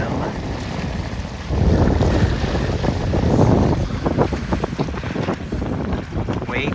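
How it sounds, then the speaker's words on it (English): Strong wind roars over the microphone during a 29er sailboat race, with water rushing and splashing against the hull and brief bursts of gusting turbulence throughout. "That's good wind here."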